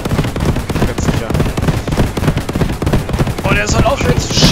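Rapid bursts of gunfire crackle continuously in Post Scriptum during a StuG III tank skirmish, dense and loud, with a few brighter high-pitched tones near the end.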